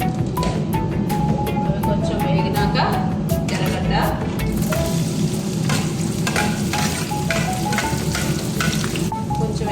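Cumin seeds crackle and sizzle in hot oil in a home kitchen pan, a dense continuous frying hiss with sharp popping ticks and occasional stirring scrapes, close and loud.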